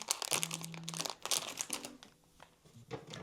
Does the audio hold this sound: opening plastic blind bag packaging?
yes